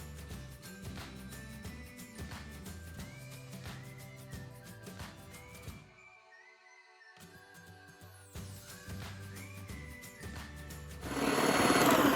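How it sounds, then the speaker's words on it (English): An electric mixer whips egg whites toward stiff peaks for a cake, giving off a buzzing, rattling motor whir that pauses briefly partway through and then returns, ending louder and harsher. "We're going to need to whisk our egg whites to a stiff peak."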